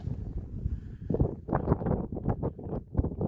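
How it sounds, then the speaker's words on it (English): Wind gusting across a wild camp at sunset, irregular rushing bursts buffeting the microphone close up, strengthening after a brief quieter start. "Wind has picked up a little bit"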